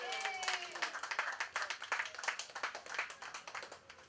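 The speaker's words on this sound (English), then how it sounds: "We have to applaud the efforts of these persons." Scattered, fairly quiet clapping from a crowd at a 5th District political launch event, individual claps distinct and uneven, with a voice heard briefly at the start.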